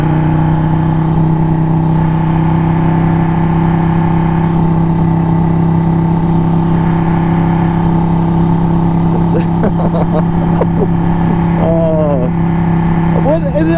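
A car passes nearby while a motorcycle engine drones steadily in the foreground, with brief whooshes and swells from traffic late on; a voice is heard over the road noise.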